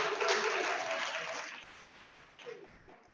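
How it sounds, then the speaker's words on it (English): Brief applause from a small community meeting audience for a participant named Eleanor, starting fairly strong and fading within seconds, with a short voice near the end. "a round of applause for Eleanor"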